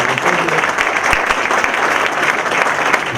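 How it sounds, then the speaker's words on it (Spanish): An audience at a union political training event applauds in a dense, continuous wash of clapping that is loud and close and holds steady throughout. "Quiero que le brindemos un fuerte aplauso a Alejandro,"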